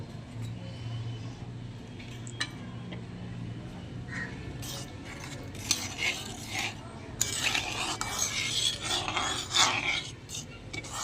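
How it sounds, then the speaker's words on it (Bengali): A spoon scraping and rubbing through duck egg curry in a pan, with coconut milk and poppy seed paste to follow, sounding as steady rasping strokes that grow louder and busier toward the end, with a low hum underneath. "এবার একটু নাড়িয়ে নেব।"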